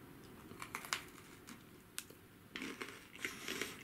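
A Santa-shaped strawberry candy from Daiso crunched between the teeth, with a series of quiet, sharp cracks and crumbly crunches close to the mic.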